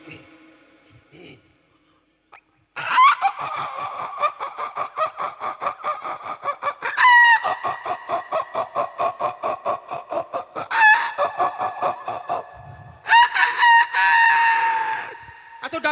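A human voice mimics a flock of roosters and hens, with several long crowing calls between rapid rhythmic clucking bursts, loud and close, alone without other sounds.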